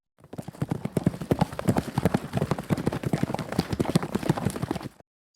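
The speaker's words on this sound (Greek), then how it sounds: "Στρατιώτης Γάμα, το άκουσες αυτό σαν ποδοβολητό?" Galloping horse hoofbeats in a horror audio drama, a rapid rhythmic clatter of hooves sustained for several seconds before cutting off abruptly.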